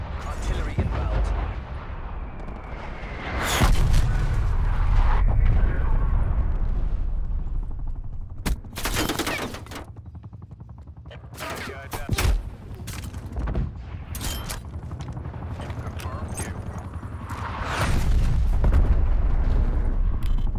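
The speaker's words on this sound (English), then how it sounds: "Artillery inbound." Artillery fire in a video game: heavy booming blasts and crackling volleys come in several clusters, some sharp and sudden, others rolling and sustained, over a constant low rumble of battle.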